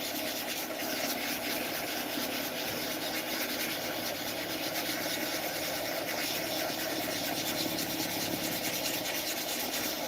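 Continuous abrasive rubbing of sandpaper against a resin pen blank on a lathe, a steady scratchy hiss with no pauses and no talking.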